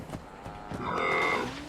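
A single cow moos in the Fallout 76 video game, a drawn-out, close and fairly loud low call rising from a few soft thumps into a sustained tone.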